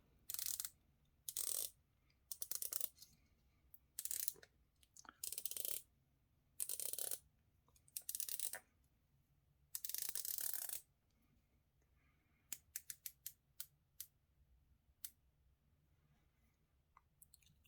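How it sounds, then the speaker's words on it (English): A Proxima PX01 watch's 120-click unidirectional bezel turned in repeated short bursts of crisp ratcheting clicks, close and quiet, followed by a few sparse single clicks and no talking. "So 120 click unidirectional bezel."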